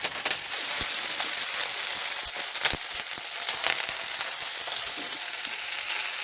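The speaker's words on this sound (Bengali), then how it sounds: "সম্বরাটা একটু ভাজা হয়ে যাওয়ার পরে ওর মধ্যে দিয়ে দেবো লঙ্কা" Green chillies frying in oil with tempering spices for a chilli pickle, a continuous bright sizzle with scattered crackles and pops, close and steady throughout.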